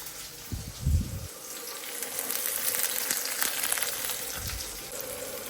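Onions sizzling in hot oil in a pan, a steady close frying hiss with a couple of low thumps of stirring or handling.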